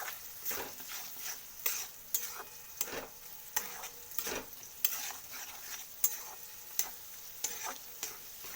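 Vegetables and egg frying in a pan give a low continuous sizzle, with a regular run of sharp spatula scrapes and taps about once a second, close by and without speech.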